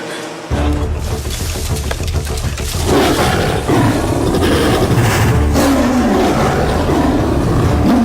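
A tiger from the Sundarbans roars during an attack in a Punjabi film scene, loud and sustained, blending with a rumbling engine and frantic noise over several seconds.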